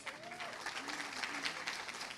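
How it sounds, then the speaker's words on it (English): An audience claps at the grand inaugural ceremony of the Jagran Film Festival 2024, steady applause filling a hall at moderate distance, with faint voices beneath it. "I think that calls for another round of applause."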